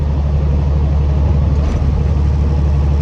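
A truck with a 10-speed manual transmission rumbles steadily at close range through a gear shift, its low engine drone holding level throughout with no talking.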